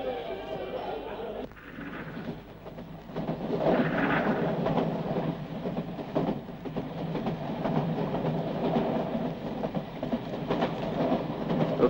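A passenger train runs along the rails, its steady rumble and rattle filling the space under faint voices, with the noise swelling slightly after a brief dip early on.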